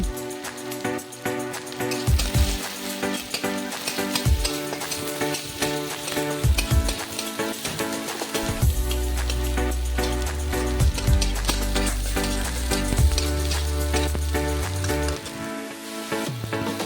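Cumin, chopped onion and garlic sizzle and crackle steadily in a hot pan for an egg and soybean curry, a continuous frying hiss beneath background music.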